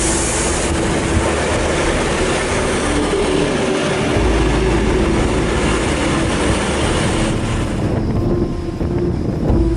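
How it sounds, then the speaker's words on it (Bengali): A train runs past, a loud, close rumble with a rushing roar and heavy wind buffeting the microphone throughout. There is no speech. "দেখুন এই ট্রেনটি ট্রেন লাইন ছাড়াই চলতেছে।"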